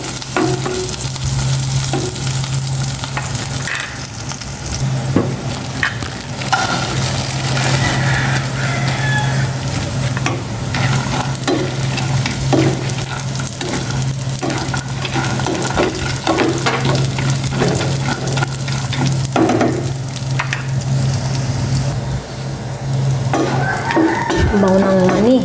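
Peanuts fry and get stirred in a pan with garlic and a long green chili, making a continuous sizzle with frequent scraping and clattering stirs. A steady low hum runs underneath, and faint rooster crows sound in the background.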